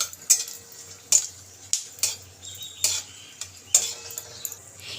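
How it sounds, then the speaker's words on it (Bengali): Two bay leaves and a dried chili fry in hot oil with a soft background sizzle, punctuated by sharp metallic clinks of a spoon against the pan at irregular intervals. "এখন আমি 2টো তেজপাতা দিয়ে দিলাম আর একটা শুকনো লঙ্কা। এটা একটু ভেজে নেব।"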